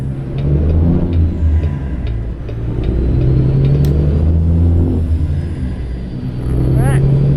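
Peterbilt 379 truck in a driving game, its engine giving a steady low, heavy rumble that rises and falls slightly as it cruises along, with someone talking over it.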